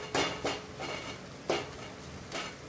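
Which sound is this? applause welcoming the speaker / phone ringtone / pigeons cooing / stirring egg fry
stirring egg fry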